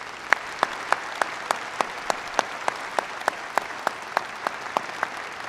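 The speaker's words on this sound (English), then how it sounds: "One more big round of applause for all of those graduates." Applause for graduating honors students at a spring undergraduate commencement ceremony, a steady wash of crowd clapping with one sharp clap repeating in an even rhythm above it, moderately loud and unbroken.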